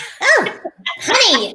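A person sneezes during a lockdown-era video call interview, a sharp burst near the start and a second one about a second later, loud and close, with a voice speaking briefly in between.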